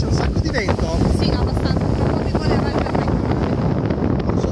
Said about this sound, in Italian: oggi c'è un sacco di vento